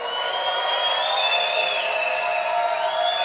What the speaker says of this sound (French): Je voudrais qu'on donne des acclamations dignes de sa royauté, dignes de sa seigneurie.